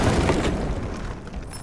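Tank shot striking a 50 kg safe, a trampoline and bulletproof glass, a loud, close booming blast that rumbles heavily and slowly fades.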